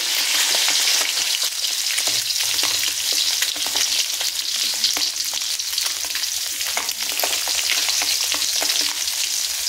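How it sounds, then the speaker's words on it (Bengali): Eggs seasoned with salt and turmeric fry in a pan, giving a loud, steady, close sizzle that crackles continuously with occasional stirring and no voices. "দিয়ে ডিমগুলোকে আমি খুব সুন্দর করে ভেজে নেব।"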